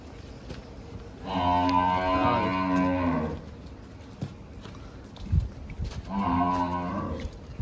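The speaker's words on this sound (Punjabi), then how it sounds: "ਜੱਡੀ ਮੱਝ ਪੂਰੀ ਫੁੱਲ ਸਾਈਜ਼ ਵੱਡੀ ਆ" A large, full-grown buffalo moos twice, two long drawn-out calls close by separated by a pause with light rustling and shuffling between, no talk.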